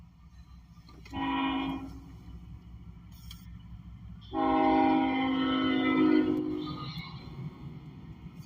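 A long freight train rolls past, its cars clattering steadily, with two sharp bursts of train horn blaring loudly in the middle and near the end.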